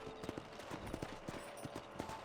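Horse hooves clip-clop at a steady trot in Red Dead Redemption, running as a moderately loud rhythmic beat over a continuous background of game ambience.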